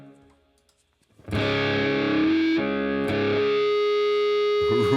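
A distorted electric guitar through a practice pedalboard and the Blue Cat Audio AcouFiend sustain plug-in rings out after a short quiet start, holding long sustained notes with a thick, effected tone, then a fresh strum near the end.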